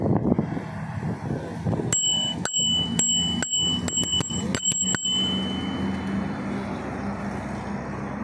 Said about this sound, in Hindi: घंटी सुनिएगा ज़रा।